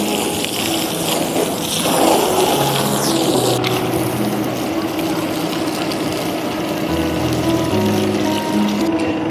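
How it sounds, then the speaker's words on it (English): Water poured over a JINHU JHL premium stone-coated metal roof tile makes a loud, steady rushing splash that runs without a break from start to finish. "As you can see, the water flows so fast, it wouldn't stay on the surface."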